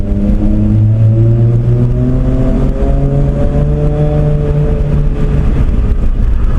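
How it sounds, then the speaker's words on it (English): Toyota Supra MK4 engine droning loud and near through a loud exhaust, its pitch rising and falling smoothly as revs change, continuous with no speech. "The engine does have a higher tone to it than the 2J."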